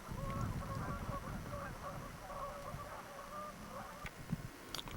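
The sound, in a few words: birds by a river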